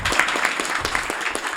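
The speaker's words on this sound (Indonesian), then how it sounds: "tepuk tangan dulu." Audience applause at an anniversary celebration gathering, a short burst of dense clapping from a crowd, steady and fairly close, with a faint voice underneath.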